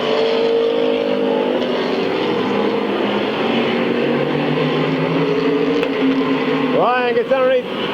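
Race cars on the Midvale Speedway oval in 1995 drone steadily up close, a dense engine roar with a rising rev near the end, mixed with announcer talk over the track.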